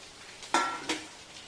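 A spoon gives two short, soft scrapes while stirring cooked jackfruit and jackfruit seeds in a pan, close by and fairly quiet.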